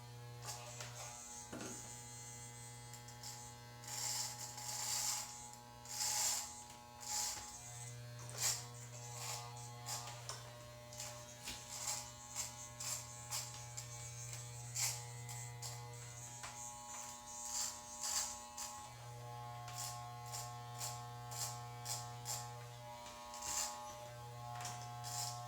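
An electric trimmer trims a beard close by, its buzzing hum starting and stopping in long stretches while hair crackles and rasps against the blades.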